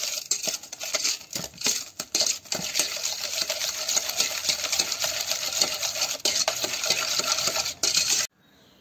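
Curd and powdered sugar being mixed in a bowl, a close run of rapid clinking and scraping spoon strokes against the bowl, fairly steady throughout before stopping abruptly at the end.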